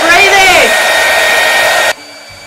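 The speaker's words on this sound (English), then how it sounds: "I bring forth my hairdryer, and on a cold setting, I'm gonna spray" A hairdryer blows on its cold setting while styling a wig, a loud, steady whooshing roar close by whose pitch slides down early on, then cuts off abruptly near the end.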